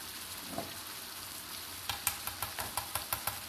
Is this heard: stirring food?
yes